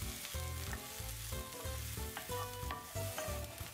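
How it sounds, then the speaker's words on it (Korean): Chopped onion and carrot stir-frying in a pan, a steady close sizzle broken by a regular rhythm of stirring scrapes and taps from a utensil moving the vegetables around. "그리고 다진 양파를 먼저 넣고 살살 볶아주며 반투명해지면 당근을 넣고"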